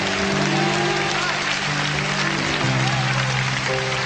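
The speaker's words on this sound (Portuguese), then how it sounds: "Será que você pode aplaudir ao Senhor nesta manhã?" A church congregation applauding during a morning worship service, dense continuous clapping from many hands with sustained organ or keyboard chords playing underneath.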